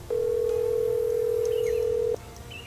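A steady telephone dial tone hums for about two seconds while phoning the sheriff in the Nancy Drew game The Secret of Shadow Ranch, clean and constant before cutting off abruptly.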